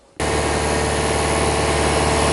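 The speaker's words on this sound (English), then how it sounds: "we'll leave it to soak for a few minutes, and then we will run the engine" An Audi A4 diesel engine starts and runs steadily during DPF cleaning, a dense, loud, unbroken rumble with a broad hiss that fills the clip after a brief quiet moment, with no talk.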